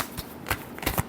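Tarot cards are shuffled in a quick close burst, a few papery riffles and taps over about a second with no voices.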